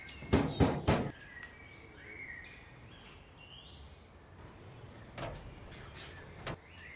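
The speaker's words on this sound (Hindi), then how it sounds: "कोई दरवाजा खटखटा रहा है।" Knocking on a house door in a domestic drama scene: a quick burst of three loud raps near the start, then a second fainter pair of knocks after a quiet stretch, with light room ambience between.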